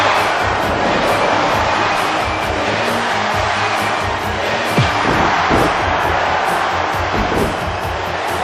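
A capacity arena crowd at a professional wrestling match cheers in a loud, continuous roar, with rhythmic pulses of chanting or stomping running through the noise.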